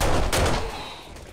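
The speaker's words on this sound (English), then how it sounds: "now we can go ahead and shoot down through here." A burst of gunfire in the zombie survival game 7 Days to Die, shooting at a water tower, cracks out in loud overlapping bangs that quickly fade into a ringing tail.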